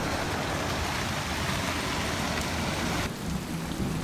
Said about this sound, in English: this was the night that the storm really hit.